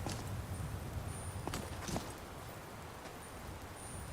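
Horse hooves clip-clopping in the video game Skyrim, soft and somewhat distant, with a few sharper hoof strikes standing out over a constant background wash and no talking.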